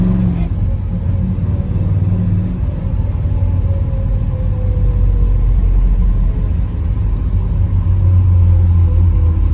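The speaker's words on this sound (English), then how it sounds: "Now we're gonna take her for a test drive." A 1955 Chevrolet Bel Air on a test drive, its engine a steady low rumble close by, with a rising tone as it pulls away and continuous road noise throughout.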